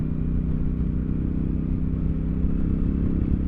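A Royal Enfield Super Meteor 650, a big, long, heavy motorcycle, is ridden at a steady pace. Its engine thrums close and loud with continuous low rumble and wind noise, and no voices.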